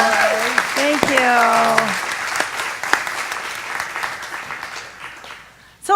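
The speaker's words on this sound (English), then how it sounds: "Big round of applause for Reverend Lori." Clapping from a church congregation fills the background, with a voice speaking over it and a few whistles or calls near the start.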